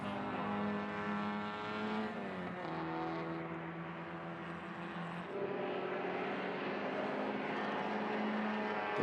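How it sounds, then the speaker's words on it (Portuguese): Caterham Seven race cars roar past on a fast track bend at a Super Seven race, engines loud and continuous with rising and falling pitch as they go by, no voices. "O carro cor de laranja que vemos ali é um dos carros inscritos pela Trisport Race com a habitual cor laranja, é Jacques Tilos e Lorio Frederic."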